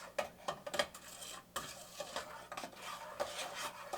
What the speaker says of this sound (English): And now we're starting to boil